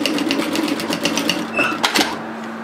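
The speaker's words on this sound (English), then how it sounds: "We're stitching it from the right side so we can see what we're doing," Sewing machine edge stitching bias binding onto a shacket, a fast rhythmic mechanical whir and clatter that runs continuously, close and loud, with brief pauses in pace near the end.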